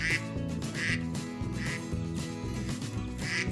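A duck quacks in several bright bursts, roughly evenly spaced, over a steady musical backing in a farm animal sounds segment for young children.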